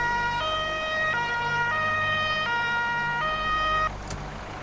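An emergency vehicle siren in the firefighting game Feuerwehr 2014 wails in a steady two-tone alternating pattern, loud and close, over engine rumble, then cuts off abruptly near the end.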